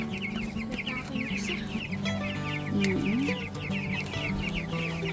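Several chickens cluck in quick repeated bursts against a steady background hum, with one louder squawk partway through.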